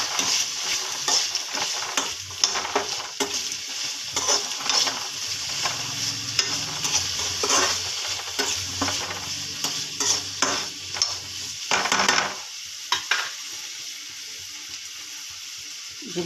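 Toor dal frying in a pan with brinjal pieces, ginger, garlic, dried red chilies and green chilies, a steady close sizzle under repeated stirring scrapes that stops abruptly near the end.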